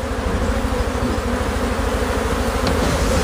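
Bees swarm around their hive in a northern Nile Delta apiary, a dense continuous buzzing that fills the space, loud and close, with no voices.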